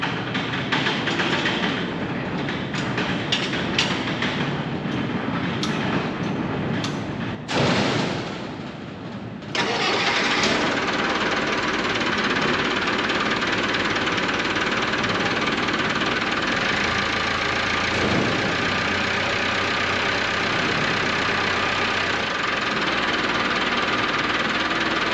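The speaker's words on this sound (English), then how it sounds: "I'm gonna crank her up and see how this battery reacts" An engine cranks with rough, uneven bursts, then catches about ten seconds in and runs on steadily and loudly to the end, with no talking.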